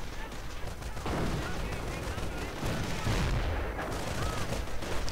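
Rapid gunfire crackles and booms in a World War II strategy game as riflemen come under attack, with bursts of shots over a steady dense battle din, loud and close.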